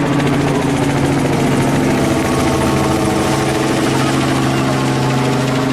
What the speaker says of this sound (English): No, that's a helicopter.